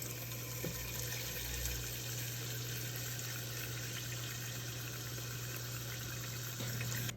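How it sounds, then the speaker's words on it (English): Tap water runs steadily into a cooking pot in a home kitchen, a continuous hissing rush with a low hum underneath and no pauses. "So now that we've filled the pot"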